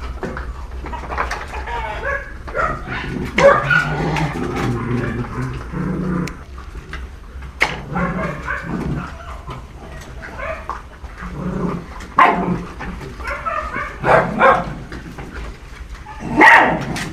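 Several puppies from a litter of breeding dogs yap, whimper and growl throughout, busy overlapping small barks over a steady low hum.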